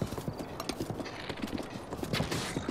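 Horse hooves clip-clop in the video game Breath of the Wild, a brisk, continuous run of close, rhythmic hoofbeats over faint background game sound.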